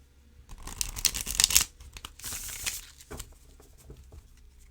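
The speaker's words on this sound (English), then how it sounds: "All right, let's shuffle." Tarot cards from a new Rumi Tarot deck being shuffled by hand, giving close, crisp riffling and papery flicks in irregular bursts, loudest early on and then softer, with no talking.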